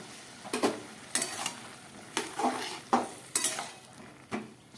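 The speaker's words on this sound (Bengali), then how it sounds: "এবার সমস্ত বেগুনগুলো এর মধ্যে দিয়ে দিলাম।" Cut eggplant pieces tipped into a simmering curry, heard as a series of spoon knocks and scrapes against the pan about once a second over a faint bubbling sizzle, close and without speech.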